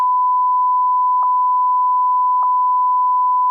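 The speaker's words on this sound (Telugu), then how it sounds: "స్పాయిలర్ ఇస్తున్నాడు గైస్, బీప్ వేస్తున్నాం" Steady, loud sine-wave censor beep masking a spoiler about the film HIT: The Third Case, a continuous pure tone with two brief clicks or breaks partway through, heard alone.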